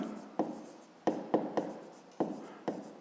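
Pen strokes on paper while working a fifth-grade maths exercise, a steady scratchy writing sound broken by about six sharp taps as the pen lifts and lands, close and alone with no talking.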